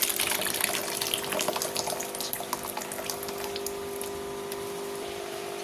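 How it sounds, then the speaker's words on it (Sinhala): Steady rushing of water poured from a tap into a basin while cleaning out a large fish tank, a continuous broadband splash that stays even and close throughout with no voices. "දැන් ඉතින් වතුර ටික බේසමකට දාගන්නවා."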